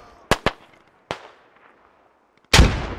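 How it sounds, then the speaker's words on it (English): Grenade explosions in the military shooter Squad during a forest battle: three sharp distant cracks early on, then a heavier, louder blast with a long rumbling tail near the end. "More grenades."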